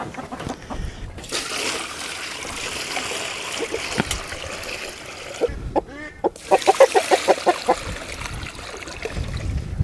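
Hens on a chicken farm cluck in short, irregular bursts that cluster into a louder run of calls near the end, over a steady background of trickling water.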